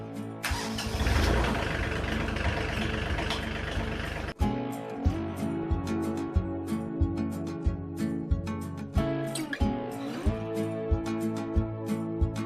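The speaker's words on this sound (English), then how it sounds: "Let's see if the tractor will start." A glow-plug diesel tractor engine cranks and roars to life in a Maine winter, then settles into a steady, rhythmic idle with regular chugging pulses, close and loud.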